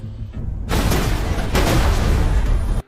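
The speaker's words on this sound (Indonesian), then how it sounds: "Dan hal tersebut menyebabkan bagian bawah pesawat itu meledak sempurna." A Semtex charge blows out the underside of a plane in an action movie scene: a sudden, loud, roaring blast that surges again midway and cuts off sharply.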